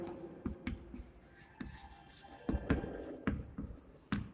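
Pen scratching and tapping on paper while a maths solution for a brick-and-wall volume problem is written out, with short irregular strokes and taps up close, no talking.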